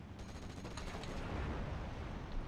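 Anti-tank half-tracks fire in a wartime strategy game, a dense run of sharp, loud gunfire reports layered over steady battle noise, with no one talking.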